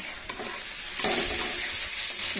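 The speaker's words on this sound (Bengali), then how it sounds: "এবার আমি এটাকে ভালো করে নেড়ে নেব" Potatoes with salt are stirred in a hot pan, the spatula scraping and turning them in a busy rhythm over a continuous frying sizzle, close and clear with no voices.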